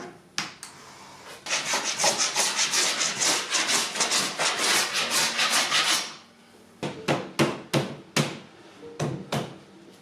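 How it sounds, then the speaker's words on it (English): A hand saw cutting wood for desk tenons: rapid, rhythmic back-and-forth strokes for several seconds, then a pause followed by a handful of slower, separate strokes, close and loud with no talk. "I can mark out and cut the tenons and the mortises on the ends."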